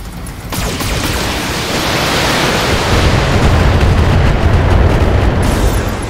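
Precision artillery strike in the BattleTech video game, a loud, sustained roaring blast of broadband rumble that swells over several seconds with no voices.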